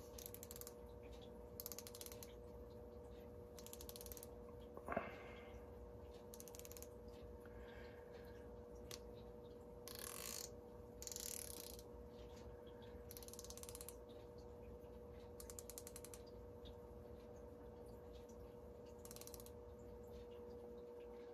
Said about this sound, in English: And it's a 90-tooth ratchet.